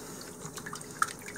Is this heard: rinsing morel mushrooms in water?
yes